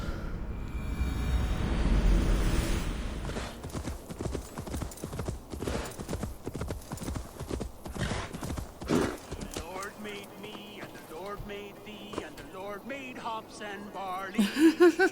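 Horse hooves in Assassin's Creed Valhalla clip-clop in a rapid, steady riding rhythm through most of the clip, close and distinct, with talking and music layered over it.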